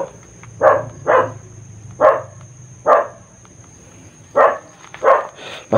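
Repeated barking from a dog in a backyard, about eight barks at uneven intervals over a low background hum, moderately loud and somewhat distant, with no voices.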